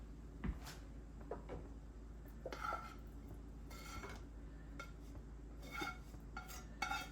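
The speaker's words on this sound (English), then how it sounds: "I'm just going to use a heat-safe spatula to get it mixed up" A heat-safe spatula stirring pork sausage in a pan, quiet scraping and clinks against the cookware in scattered bursts over a soft low background, no talking.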